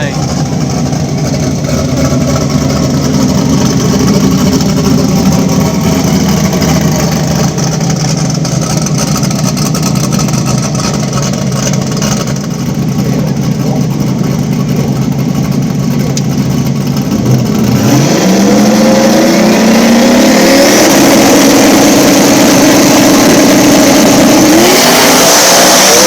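Small block turbo Ford Mustang drag radial cars at a drag racing event idle with a loud rough rumble, then one launches with a rising, roaring engine sweep over the crowd and announcer talk.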